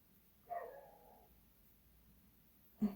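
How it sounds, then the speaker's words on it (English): A small dog gives a single short bark, then a second one a couple of seconds later, both fairly faint and distant in an otherwise quiet room. "And there's the dog again."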